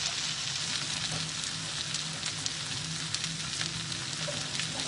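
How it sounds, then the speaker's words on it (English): Onions hit hot oil in a pan while cooking a mixed vegetable and sweet sour pork dish, giving a dense, steady hissing sizzle with scattered crackles, close up and constant throughout, with no talking. "now, after you've done that, we're going to bring in all our onions"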